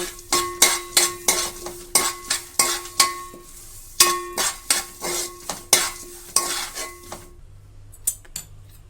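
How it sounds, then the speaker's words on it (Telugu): Protein powder ingredients dry-roasted in a pan on low flame, with a spoon scraping and clinking against the metal in quick regular strokes, loud and close, then stopping to near quiet. "ఇది వీటన్నింటినీ సిమ్లో పెట్టుకొని బాగా వేయించుకోవాలండి."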